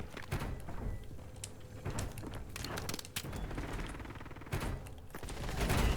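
Gunfire in the Call of Duty Warzone video game rattles in quick bursts and scattered sharp shots, fairly close and moderately loud, among mechanical clicks and movement noises, without talk.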